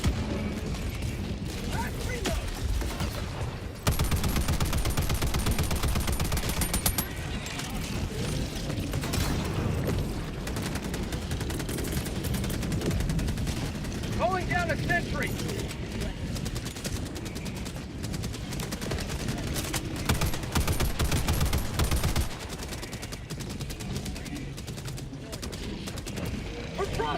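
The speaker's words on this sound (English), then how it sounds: "Calling down a sentry! Requesting sentry!" A deployed sentry gun in Helldivers 2 fires long, continuous automatic bursts, loud and close, with shouting voices and other battle noise mixed in throughout.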